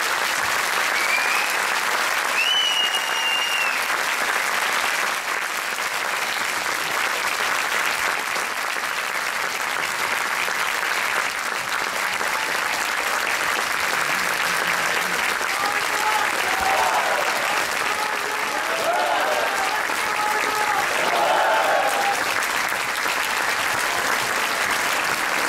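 A large audience claps loudly and continuously after a Circassian dance troupe's performance at an Ankara association show, a thick sustained roar of hands with scattered cheers and voices swelling in the latter part.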